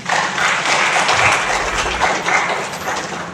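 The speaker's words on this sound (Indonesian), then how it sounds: "Kita berikan aplaus kepada beliau." Applause from an audience at a regional cultural heritage ceremony in Buton Selatan, a steady wash of many hands clapping that carries loudly for several seconds before easing slightly.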